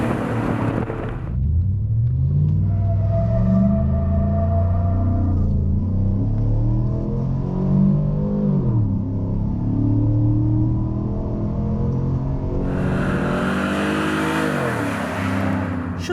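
A GMC Sierra off-road pickup truck's engine roars and revs while driving, its pitch climbing and dropping through several accelerations, loud and close with a steady rumble throughout.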